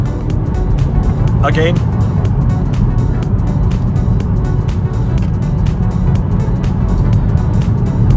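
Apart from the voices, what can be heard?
BMW M140i car accelerating on a drive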